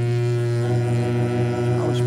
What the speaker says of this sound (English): The ship's horn, for example.